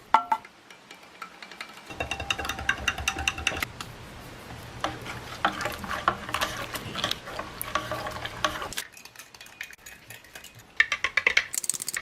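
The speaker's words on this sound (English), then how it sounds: "I'll have to stir it up a little bit" A spoon stirs strong tea with sweetened condensed milk in a cup, clinking repeatedly against the sides in bursts with brief pauses, close and fairly clear.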